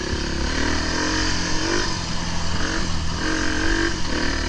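A four-stroke enduro motorcycle engine revs hard near its rev limiter on a trail, a loud, continuous buzzing drone with small fluctuations as the throttle is held.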